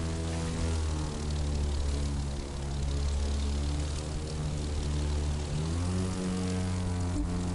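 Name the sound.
propeller plane engine in video game The Crew 2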